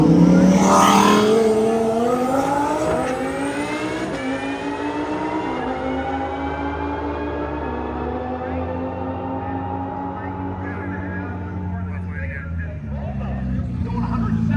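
Loud race cars scream past at around 173 mph during roll racing, engines revving and climbing in pitch, with a crowd hubbub and commentary-like voices underneath.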